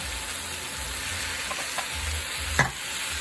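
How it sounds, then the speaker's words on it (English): Tindora curry fries in oil with seeds and curry powder, a steady low sizzle under a few light spatula scrapes and one sharp clack against the pan near the end. "I'm going to stir that around"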